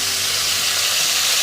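Crabs frying in hot oil in a pan, a loud, dense and steady sizzle heard close up with no voices.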